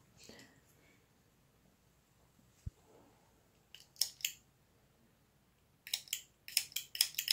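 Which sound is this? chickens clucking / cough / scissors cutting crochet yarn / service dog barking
scissors cutting crochet yarn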